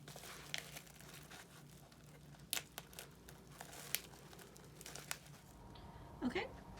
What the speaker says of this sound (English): gently you're gonna peel the plastic wrap off from the inside